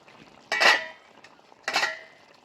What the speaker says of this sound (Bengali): এবার আমি ঢাকনা খুলে দেখে নেব যে আমার সর্ষে পটল ঠিকঠাকভাবে সব কিছু সেদ্ধ হয়েছে কিনা